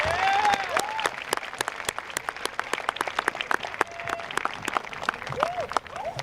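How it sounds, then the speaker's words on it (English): An audience at a commencement ceremony gives a round of applause, dense and sustained clapping from a large crowd that carries on throughout. "with a round of applause"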